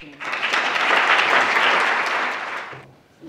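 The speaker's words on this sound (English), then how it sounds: "Another round of applause." An audience at a science awards ceremony applauds, a dense burst of clapping that swells, holds for a couple of seconds and then fades out.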